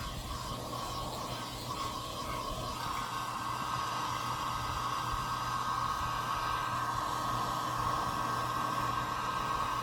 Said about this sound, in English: this is an old travel hairdryer